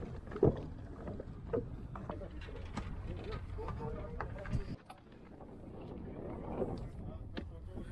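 A tourist boat moves on Chilika Lake, a brackish water lagoon in Odisha, with a low steady engine and water rumble close by, heard under a voice and occasional knocks.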